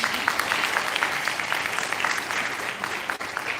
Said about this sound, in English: Graduates, can we give a round of applause to the senior high school teachers?